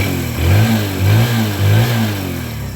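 A motorcycle engine, freshly refitted with its tappets set slightly loose, runs loud and close, revving up in three rhythmic surges over a steady idle, with no voices.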